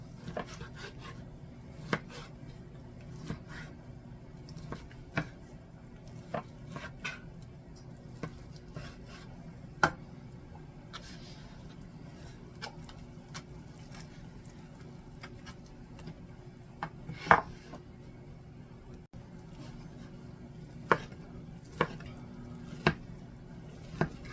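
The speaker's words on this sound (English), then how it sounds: "So we're just going to chop this in to small pieces as well." Knife chopping food into small pieces on a board for club sliders, sharp irregular taps scattered over a low steady background hum, moderately close.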